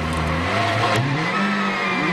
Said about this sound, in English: Meek is happiest when he can open up his Citroen and go for it.